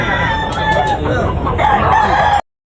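A rooster at a poultry market in Tabunok, Talisay, Cebu crows loudly and close over a busy background of clucking fowl before the sound cuts off abruptly.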